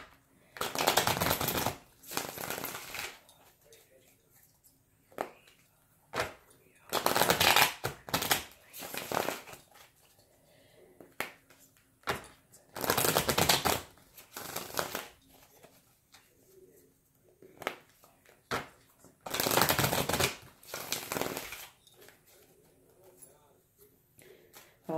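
Tarot cards being shuffled for a reading, several distinct riffling bursts of a second or two each, repeated at intervals with quieter handling sounds between them, close and clear.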